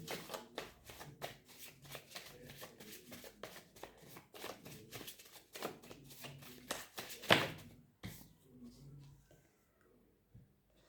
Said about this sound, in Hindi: तो हम एंजल्स के कुछ कार्ड्स ले लेते हैं और देखते हैं कि एंजल्स हमें क्या बताना चाहते हैं।